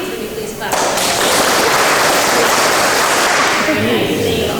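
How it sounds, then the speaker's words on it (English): A concert audience at a fourth-grade spring concert claps a rhythm together, a loud, dense burst of many hands that starts abruptly and carries on steadily to the end. "And audience, would you please clap this rhythm?"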